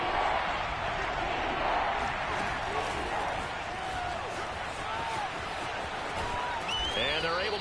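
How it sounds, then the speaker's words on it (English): Stadium crowd noise from the video game Madden NFL, a dense continuous roar of cheering fans with scattered whistles and shouts, swelling and easing slightly as play continues. "Crowd getting in it a bit already."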